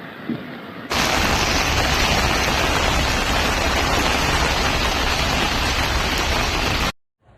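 Heavy rainstorm downpour during flooding in Liaoning, China: a loud, dense, steady roar of rain starting abruptly and pouring continuously before cutting off, with no talking.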